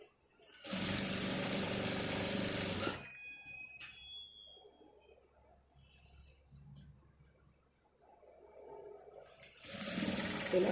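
A sewing machine stitching lining into a blouse, running in two loud, close bursts of rapid whirring at the start and end, with quiet handling and a voice between.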